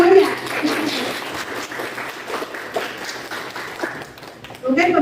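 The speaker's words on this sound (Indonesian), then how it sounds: "Tepuk tangan untuk kelompok semuanya." A classroom breaks into applause for student groups, with dense clapping that fades toward the end, and a voice speaks at the start and close.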